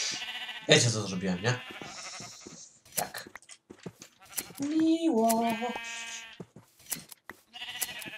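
Sheep in a video game bleating several times, loud and close, with someone talking between the calls.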